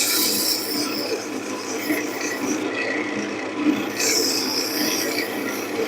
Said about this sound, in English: I'm going to speed the lathe back up.